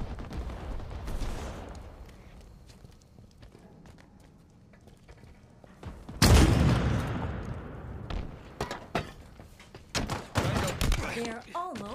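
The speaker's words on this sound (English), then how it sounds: "And now I have a rocket launcher." A rocket launcher fires in a video game, a sudden loud blast about halfway through that rumbles and fades, with scattered game sounds around it.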